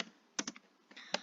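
Quiet typing on a computer keyboard during Python coding, a few sharp isolated key clicks including a firmer press of the enter key, close and soft with no talk.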